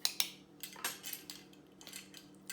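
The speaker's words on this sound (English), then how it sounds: "I'm also gonna go back and just make sure it's nice and level using that flat end of my knife" A knife's flat edge scraping and tapping against a metal teaspoon while leveling ginger cookie ingredients, producing a series of light, close clinks and scrapes at irregular intervals, fairly quiet.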